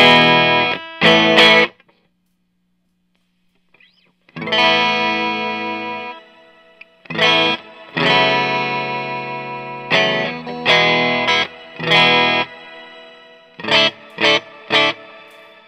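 A Squier California Series electric guitar with a GFS pickup plays a clean tone through a Mini 8 amp. Separate strummed chords and short stabs ring out with gaps of silence between them, some notes sustaining, others cut short.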